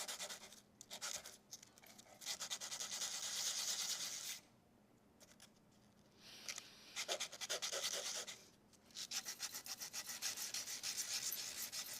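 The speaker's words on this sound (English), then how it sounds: "I want to do is grab my sandpaper, and I need to make sure my sides are polished" Sandpaper rubs briskly against the edges of metal jewelry discs, a close, rhythmic scratchy rasping in repeated strokes, broken by two short pauses.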